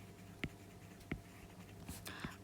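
Quiet pen strokes of writing by hand on paper, a few soft scratchy taps and scrapes spaced irregularly, close and faint with no talking.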